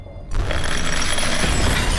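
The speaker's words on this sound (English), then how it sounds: "Need you to break that glass down there" Glass shattering in the video game Stasis: a sudden loud crash that breaks in after a short quiet moment and carries on as a dense, sustained burst of breaking noise.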